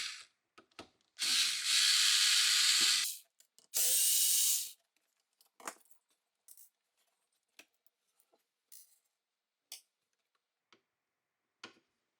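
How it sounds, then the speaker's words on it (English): Screws being removed from a Sage Barista Touch espresso machine with a power driver, giving two short whirring bursts, followed by scattered small ticks and clicks of screws and parts being handled nearby. "remove the 3 torque screws and the Phillips screw with the ground wire attached"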